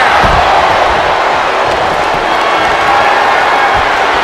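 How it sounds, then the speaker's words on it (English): Roaring crowd noise from a video game wrestling match on Friday Night SmackDown, a loud, continuous wall of cheering with a couple of low thuds near the start and end. "Listen to this crowd."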